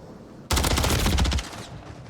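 A close, loud burst of rapid automatic gunfire from a gunfight in the video game Modern Warfare III lasts about a second, then cuts off to a low background hum.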